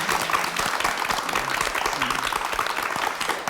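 A television studio audience applauds during a talk show interview with an actress, continuous clapping heard up close with a voice speaking over it.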